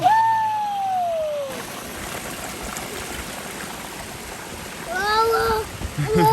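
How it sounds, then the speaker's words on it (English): Steady rushing water flows from a garden pond in the background, with high voices calling briefly at the start and again near the end. "pond is flowing again"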